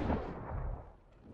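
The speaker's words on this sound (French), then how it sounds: "Le chef de guerre Krastrip fut interrompu par une explosion venue de l'extérieur." An explosion sound effect in a French Warhammer 40k audiobook: a deep, muffled blast from outside that rumbles and fades over about a second, with no narration over it.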